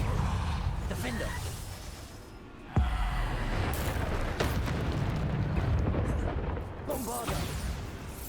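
Bombarda spell explosions in Hogwarts Legacy, heard as repeated booming blasts and crackling bursts amid game sound effects and dense combat noise, with a sharp impact near the middle.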